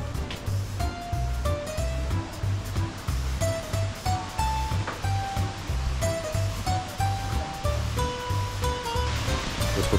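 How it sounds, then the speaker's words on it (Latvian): A waterfall pours down into rushing water along the Cinque Terre coast, a steady broad roar with faint musical tones drifting over it and no voices standing out. "ūdensritums lejā"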